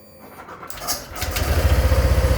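Honda Vario 125 scooter engine after a valve clearance adjustment, starting up and then idling steadily with a regular pulsing rhythm, close and fairly loud.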